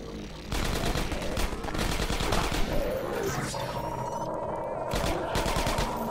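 Gunfire from a sniper rifle in the video game Half-Life 2 Episode One rings out in a busy, dense combat mix, with repeated sharp cracks over constant loud background noise and a voice speaking at points.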